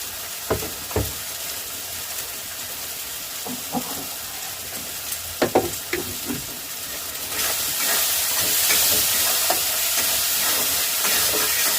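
Turmeric, coriander powder and green chilies fry in hot oil for a rupchanda fish and potato-radish curry, a steady close sizzle punctuated by scraping stirs, swelling into a louder, denser hiss toward the end.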